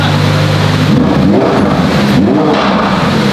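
A supercharged Ferrari Aperta revs hard and close, with a steady idle breaking into quick rising and falling engine sweeps.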